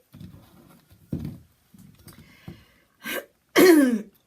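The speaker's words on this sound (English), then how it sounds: "do apologise for this cough, I don't know where it's come from" Several short throaty bursts, a couple of coughs near the end, the last one loud and rough, with quiet pauses between.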